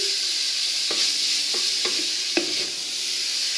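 Bolognese sauce cooking in a pan, a steady hissing sizzle with a handful of soft scraping stirs spaced out over a few seconds, no voices.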